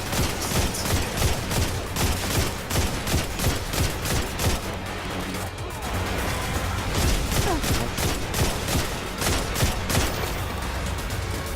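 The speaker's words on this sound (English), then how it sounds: "Ah, rockets." Rocket fire and explosions in the video game Destiny: a dense, loud, continuous barrage of rapid gunfire and blasts with no pause.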